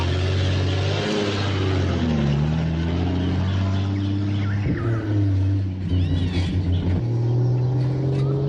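Car driven fast over a rough road in 1981, its engine rumbling and revving steadily up close the whole time, with bumps and rattles over the drone and a brief voice cry.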